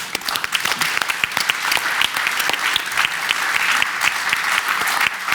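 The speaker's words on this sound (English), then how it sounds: "Can I get a big applause for Mara, for Roger, and for Dr. Kendi?" A large audience at a book and film event applauds steadily, dense clapping filling the room with sustained, fairly loud energy from start to finish.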